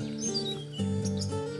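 Orange-headed thrush kept indoors chirping, with several short bright whistled calls and tweets repeating over a steady low background hum.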